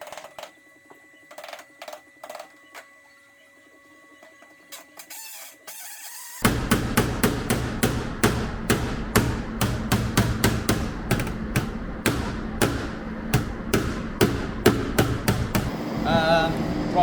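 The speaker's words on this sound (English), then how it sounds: "now I've done my initial tipping over with my hammer along the edge there." A hammer taps over a panel edge on the front end of an Aston Martin DB6, a long run of sharp metallic strikes in quick, fairly regular rhythm, close and loud, after a few scattered knocks and a quieter lull.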